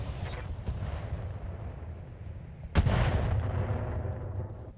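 Artillery firing a standard shell in a video game, a single heavy boom partway through that rolls off into a long fading rumble over low background noise.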